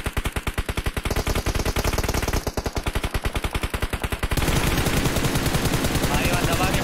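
Rapid automatic gunfire from an online shooting game rattles in fast, evenly spaced bursts, then gives way to a denser, continuous barrage of shots. The fire is loud and close, and faint voices sit underneath.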